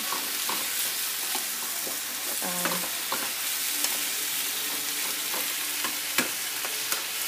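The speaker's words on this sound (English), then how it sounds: "So that's that, and I just stir it up." Chicken sizzles steadily in a frying pan while being stirred, a loud continuous hiss broken by occasional scrapes and clicks of the utensil, close up and with no voices.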